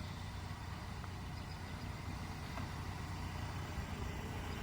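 A car engine idles with a steady, low rumble that runs unbroken throughout, close by, as the car rolls slowly in reverse, with no voices.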